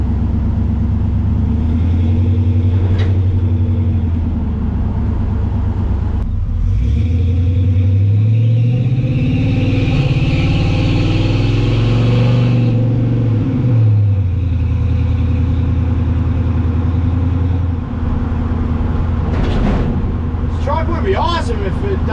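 A 1965 Chevrolet C10 pickup with a swapped LS V8 engine cruises on a highway, its steady low engine drone and road rumble rising and falling as it accelerates, heard from inside the cab and loud throughout.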